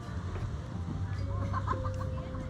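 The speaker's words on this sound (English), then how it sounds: "Oh, I found some chickens." Chickens cluck softly on an island in Phuket, Thailand, a few scattered low clucks over a quiet outdoor hum with a faint tonal whine.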